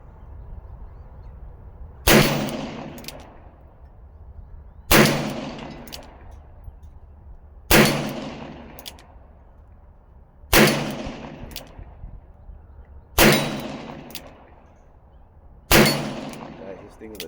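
A 40-year-old Ruger GP100 revolver fires .38 Special rounds in single action: six loud, sharp, close shots spaced evenly about three seconds apart, each ringing off in a decaying echo.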